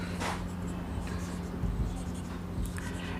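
Chalk or marker scratches out math on a board in short strokes close to the microphone, with faint talking underneath.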